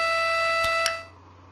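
A counter alarm on an automation trainer sounds once the count reaches 5: a steady electronic buzzing tone with two short clicks, then it cuts off and leaves a quiet hum.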